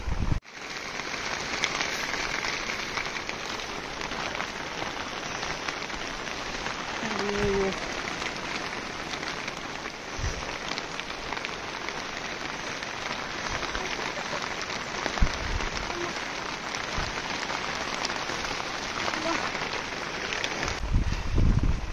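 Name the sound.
heavy rain pouring during a song shoot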